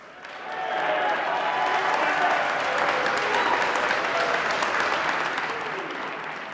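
A crowd at a cadet boxing event breaks into applause for the boxers, dense clapping rising quickly and holding steady, with a few voices underneath.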